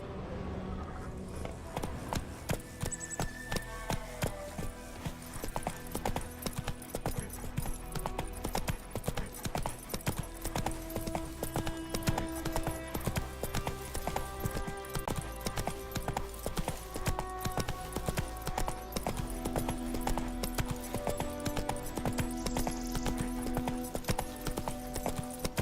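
Clip-clop of a horse's hooves in The Witcher 3 video game, a steady galloping rhythm that runs the whole time over game music, with occasional faint snorts.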